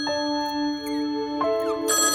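A phone ringtone plays a bright, electronic melody of sustained tones, clear and close, with no voices.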